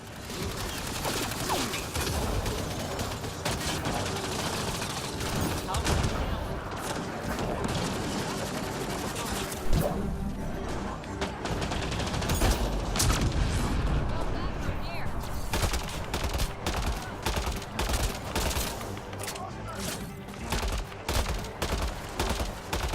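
A sci-fi firefight in Mass Effect: Andromeda: a grenade blast and sustained bursts of automatic gunfire rattle on and off, loud and close, with combat voices calling out over the shooting.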